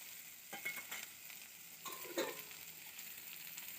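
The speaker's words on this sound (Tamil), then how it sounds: "எல்லாத்தையும் போட்டு நல்லா வதக்கிக்கணும்" Crushed garlic and curry leaves sauté in a pan with onion for beetroot dosa, a steady soft sizzle broken by a few scraping stirs, close and fairly quiet with no talking.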